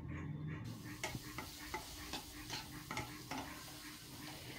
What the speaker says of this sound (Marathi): तर ह्याला पण छानपैकी परतून घ्यायचं